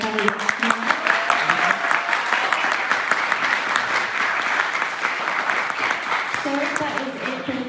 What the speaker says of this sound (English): Can you please have a massive round of applause for our candidates?